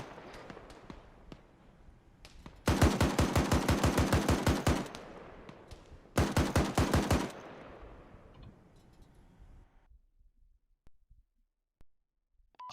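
Automatic gunfire in an Arma military game session rattles out in two long, loud, rapid bursts, then fades into scattered distant shots and rumbling echoes.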